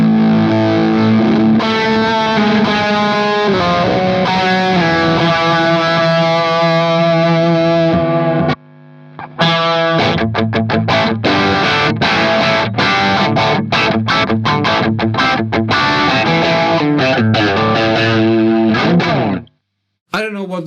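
Heavily distorted electric guitar through a Nux Cerberus effects unit preset, first sustained chords, then choppy rhythmic strums after a brief pause, loud and alone, ending abruptly.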